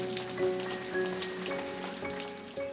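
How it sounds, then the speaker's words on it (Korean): Steady autumn rain falls in a mountain valley farmyard, a continuous close patter of drops on surfaces with a soft hiss, faint and even throughout with no voices. "가을을 물들이는 비가 내립니다."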